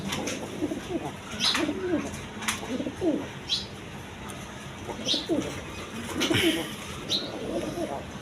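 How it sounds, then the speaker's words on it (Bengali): Pigeons coo repeatedly, a male and a female in a pair of quality birds at a market, with soft, rolling calls recurring every second or two at close range over a faint background murmur. "কোয়ালিটি সম্পন্ন কবুতর সামনেরটা নর পিছনেরটা মাদি"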